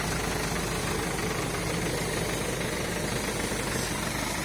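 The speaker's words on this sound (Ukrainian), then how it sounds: "Слухайте, а не дивіться як має працювати мотор спринтер." A Mercedes-Benz Sprinter van engine idles with a steady, loud mechanical clatter and rattle, running evenly without revving.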